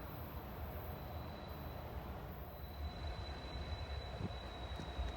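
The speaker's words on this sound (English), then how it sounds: "I believe this will be another Union Pacific train." A Union Pacific train rumbles past in Eugene in the evening, a steady low roll of railcars and wheels with a faint high squeal riding above, heard from a distance at modest volume.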